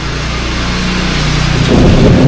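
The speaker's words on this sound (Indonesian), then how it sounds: "petirnya coy petirnya petirnya petirnya" Thunder rolls during heavy rain in Dieng: a loud, close, continuous low rumble over a dense hiss of rainfall that swells stronger in the final second.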